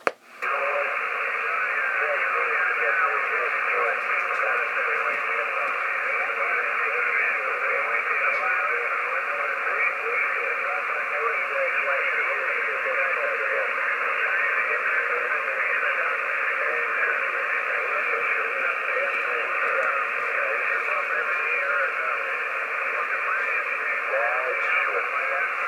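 A CB radio transmission received in northern New Hampshire plays continuously: thin, band-limited hiss with a faint, distorted voice coming through it steadily for nearly half a minute.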